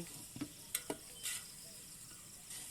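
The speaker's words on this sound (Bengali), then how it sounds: "এই যে আমি এখন একটু নাড়া দিচ্ছি" Masala being stirred in a pot after the onions are browned, before meat goes in: a quiet, faint sizzle with a few soft scraping strokes early on.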